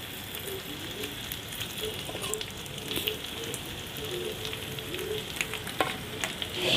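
Milkfish grills in a pan with soy sauce, giving a dense, steady sizzle and crackle throughout, close and fairly loud, with occasional sharper pops and no talking.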